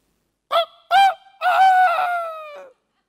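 On a comedy stage, a performer's voice imitates a rooster crow: two short clipped calls and then a long, strained, drawn-out cry, loud and close with silence around it.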